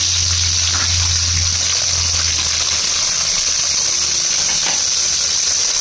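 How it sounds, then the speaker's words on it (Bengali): Marinated pomfret fish hitting hot oil in a pan, a loud, steady broadband sizzle and hiss that holds evenly throughout without pause. "এবার আমি তেলের মধ্যে দিয়ে দেবো মাছটা।"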